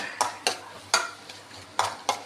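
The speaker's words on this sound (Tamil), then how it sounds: "நல்லா வதக்கிடுங்க." Ingredients for palak paneer gravy are sautéed and stirred in a pan, a spoon scraping in several sharp, irregular strokes over a faint sizzle, close and fairly quiet with no talking.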